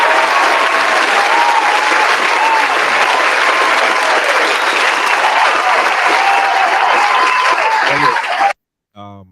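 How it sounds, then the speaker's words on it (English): Audience applause during a podcast episode: dense, sustained hand clapping at steady loudness for about eight seconds, then it cuts off abruptly and a few brief sounds follow. "Let's get a hand clap of praise for that."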